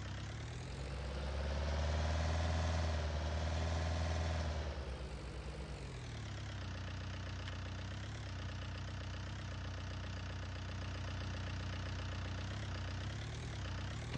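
A tractor engine from the Farming Simulator game, Ellerbach map, drones steadily at low pitch, swelling louder for a few seconds as it revs up, then settling into an even running hum that continues alone to the end.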